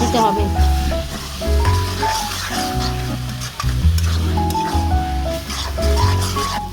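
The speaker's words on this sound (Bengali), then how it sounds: "জিরা বাটা আদা রসুন বাটা ভালোভাবে নাড়াচাড়া করে" Cumin paste and ginger-garlic paste stir-fried with potatoes and onions in oil in a pan, a steady sizzle with scraping stirs throughout, loud and close, while someone speaks over it.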